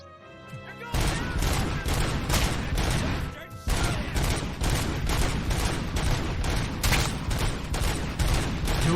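Pistol gunfire in the Robocop Rogue City video game, a dense, loud barrage of rapid shots with crashing impacts running almost continuously, briefly dropping out before resuming at full intensity.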